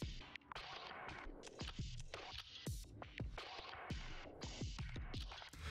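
A drum loop squashed hard by OTT multiband compression in Ableton Live 11 sounds dense and flattened, with loud, even hits and the background hiss pumped up to fill every gap. No one speaks.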